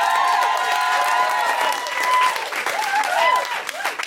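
A live audience at a recording of the Guilty Feminist comedy podcast claps and cheers in a sustained burst of applause, with voices talking and whooping over it as it gradually thins.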